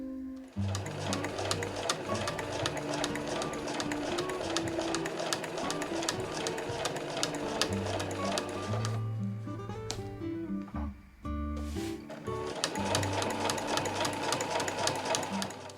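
A sewing machine stitches a fur tote bag in steady, rapid rhythmic bursts, close and loud, with a brief pause and restart near the middle.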